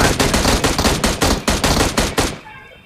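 Rapid automatic fire from an M16 and UZI in the battle royale game PUBG Mobile: a loud, close burst of about a dozen evenly spaced shots that stops abruptly, leaving a short fading tail.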